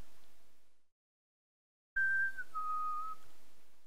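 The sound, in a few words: person whistling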